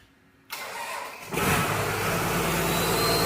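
Diesel engine of a Cat 140G grader cranking and catching at close range, the starter whir jumping into a loud, steady rumbling idle for a hydraulic pump test.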